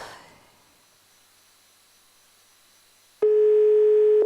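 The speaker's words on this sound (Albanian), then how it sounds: "Bie Zilja, duke shpresuar që zonja Dhurata do të përgjigjet" A telephone line on an outgoing call goes quiet for about three seconds, then a single loud, steady ringing tone starts and holds to the end.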